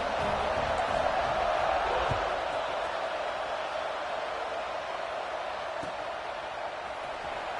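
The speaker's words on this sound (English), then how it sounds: "this crowd is buzzing after that last score" A steady stadium crowd murmurs and roars in EA Sports College Football 26 on PS5 after a score near the red zone, a dense continuous wash of noise holding at an even loud level throughout.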